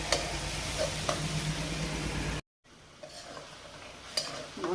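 Garlic, salt and ground spices (coriander, cumin and turmeric) sizzle in a pan as they are stirred and fried. The scraping strokes are clear over the frying, and a brief moment of complete silence interrupts it midway.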